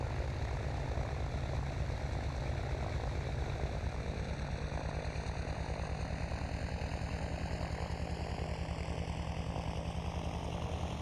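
A Beechcraft D18 Volpar propeller aircraft drones steadily in flight near Guam, heard from inside the cabin as a loud, continuous engine and propeller roar with a slowly shifting upper whine.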